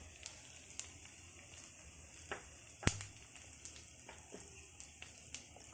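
Lentils and spices sizzle and fry in hot oil for pulihora tempering, a steady soft crackle with occasional sharper pops and stirring clicks, close and fairly quiet, no talking.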